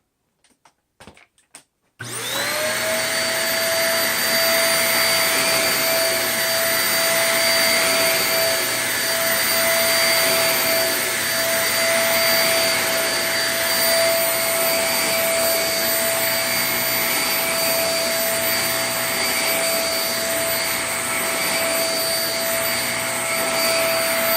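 A Shark NV22 upright vacuum cleaner pushed over carpet sprinkled with baking soda, running as a loud, steady whine after a few brief clicks, with the pitch holding nearly constant throughout.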